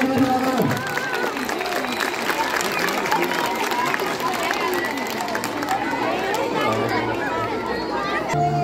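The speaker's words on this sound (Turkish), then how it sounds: "Alkışlarınız varlığının yerlerini alalım." Applause from an audience at a Turkish memorial ceremony for Atatürk on 10 November, a dense sustained wash of many hands with crowd murmur and cheering mixed in, steady and loud throughout.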